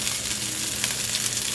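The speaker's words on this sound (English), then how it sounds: "is this called frying? Yeah. In a big fry pan." Pot stickers fry in olive oil in a big pan, giving a steady, close crackling sizzle with no talk over it.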